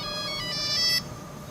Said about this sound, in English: Yeah, the Nokia ringtone.